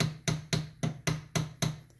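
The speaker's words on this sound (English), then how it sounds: "I'm just going to tap on it with my hammer here" A hammer taps a cocked NEF Pardner 20-gauge shotgun: seven sharp, close metallic knocks in an even rhythm about a quarter second apart, alone without talk.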